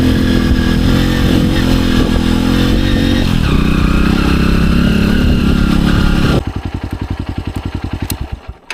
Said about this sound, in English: a lot of that is intake noise